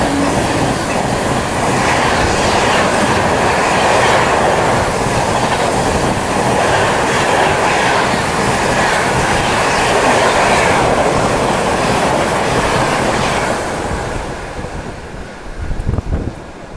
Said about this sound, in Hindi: हमारी ट्रेन को एक ट्रेन जो है वो ओवरटेक करने वाली है, दैट इज़ हावड़ा नई दिल्ली राजधानी एक्सप्रेस